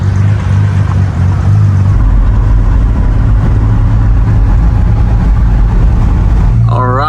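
A convoy of supercars, including a Jaguar Low Drag E-Type, rolls along with a continuous loud engine drone and road rumble, close by, while voices talk over it.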